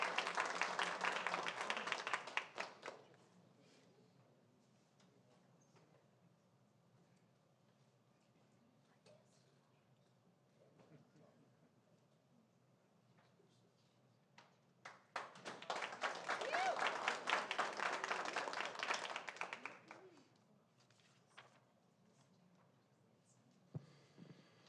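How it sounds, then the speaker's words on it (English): Audience applause at a school board meeting, with two bursts of clapping from a crowd: a loud round at the start fading within a few seconds, then a second sustained round around the middle, separated by quiet room murmur. "If everybody can give him a round of applause."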